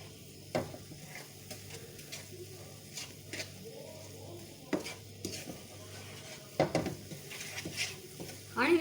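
Besan halwa sizzles softly in a pan while a utensil scrapes and stirs it in irregular strokes, with occasional sharper clinks against the metal; quiet and close, no talking.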